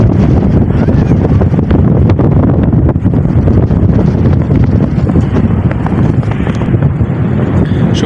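Loud, steady wind howls and buffets across an exposed hilltop, a dense rumbling roar with gusty pulses that continues without pause.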